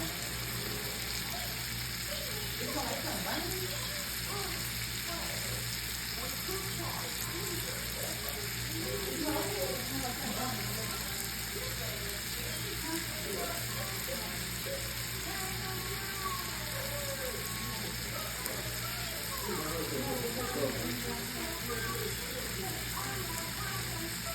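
Meat frying in butter in a pan alongside sausage for chicken Alfredo, a steady faint sizzle and crackle running continuously with scattered spits and a constant background hum.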